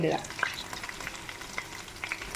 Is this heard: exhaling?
no